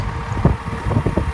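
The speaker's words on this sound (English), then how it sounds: "Sorry about the wind." Gusty wind buffets an outdoor microphone beside a loaded trailer, giving a loud low rumble with uneven thumping bursts throughout and no speech.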